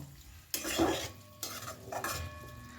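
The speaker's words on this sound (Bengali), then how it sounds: "খুব ভালো করে মশলার সাথে আলুগুলোকে মিশিয়ে নেব" Fried potatoes and slit green chillies stirred into a spice masala in a pan, several bursts of scraping and clinking with a soft sizzle between strokes, close by.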